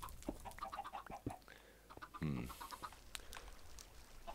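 Minecraft chickens cluck in a few short, scattered calls over a faint game background, with one louder burst partway through.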